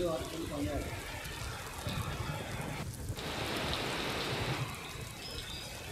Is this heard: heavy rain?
yes